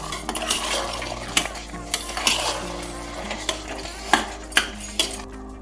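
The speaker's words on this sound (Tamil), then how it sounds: "அந்த 1/2 கப் அரிசி போட்டு நல்லா ஒரு வதக்கிக்கலாம்." Half a cup of rice being stirred and sautéed in a metal pan for mint rice, with a spoon scraping and clinking repeatedly over a steady sizzle.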